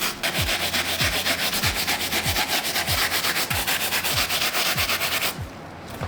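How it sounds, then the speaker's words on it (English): A wire bristle brush dipped in cleaning solution scrubs a mesh sneaker in steady back-and-forth strokes, loud and close, with a regular rasping rhythm of about two strokes per second that stops just before the end. "So I'm dipping the wire tip bristle brush back in the solution and getting to work."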